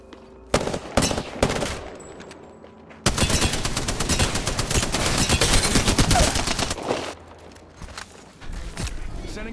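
Rapid bursts of automatic gunfire from an Apex Legends match, loud and close, with sharp single shots early on giving way to a long sustained volley, then scattered shots as it tapers off.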